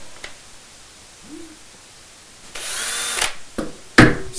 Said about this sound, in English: We'll undo one tightening nut